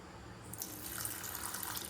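Water is poured into sugar in a pan to make syrup for badusha, a brief, steady splashing pour heard up close.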